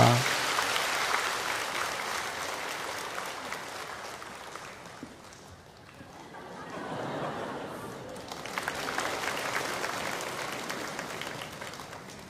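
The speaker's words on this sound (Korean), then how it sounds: "우리 박수로 이 아이를 축복합니다." Church congregation at a Sunday service applauding to bless a child, a soft, steady patter of many hands heard from a distance, easing briefly in the middle before swelling again.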